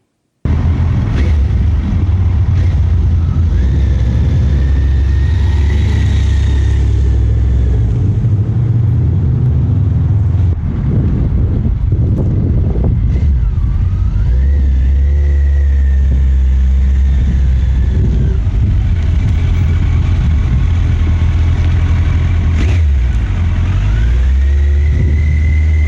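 A motorcycle runs through a U-turn exercise from a stop, its engine holding a steady mid-pitched drone with rising revs as it pulls away and turns, close and continuous throughout.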